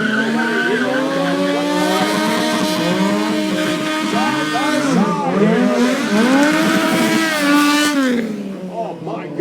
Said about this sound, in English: controlled burnout here as he circles here